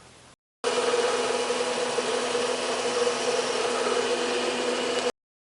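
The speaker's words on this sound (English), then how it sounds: "Now we're going to spot drill it and then start drilling." Drill cutting a half-inch hole in metal, a steady whirring grind that starts abruptly after a short gap and holds constant for about four and a half seconds before stopping.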